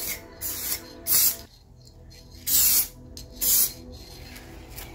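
Aerosol spray can laying a coat of red paint onto the bonnet of a Mini Cooper R56 in three loud hissing bursts, each about half a second long, with quieter background between them.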